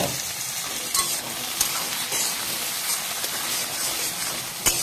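Onion, ginger, garlic and tomato fry in a pan for a Bengali ghugni, giving a steady close sizzle and hiss with a few brief clinks of stirring and no talk.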